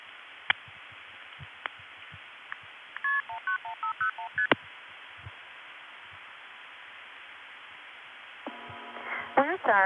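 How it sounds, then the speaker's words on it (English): Touch-tone digits dialed on a line through a senderized step-by-step tandem telephone exchange, a rapid run of short tones with scattered clicks under a steady line hum, and a burst of rising tones near the end. "I dialed an area code plus only 6 digits"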